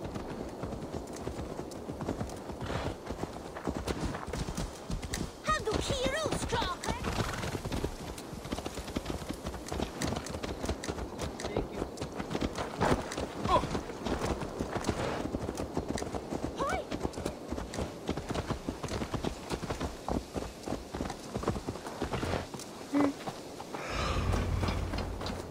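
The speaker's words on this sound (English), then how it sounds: "Let's return the horse." A horse's hooves clip-clop steadily in the Assassin's Creed Valhalla video game, a rhythmic trotting under continuous talk with occasional snorts and game sounds.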